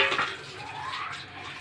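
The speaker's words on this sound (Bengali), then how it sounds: "আমি নাড়তেছি এখন" A pot of milk with sago pearls is stirred briefly, giving soft scraping and swishing with a faint liquid slosh, close and quiet.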